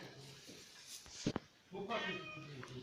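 A cat meows on a farm amid a voice and other talk, a short, clear meow rising near the end after some brief clattering sounds.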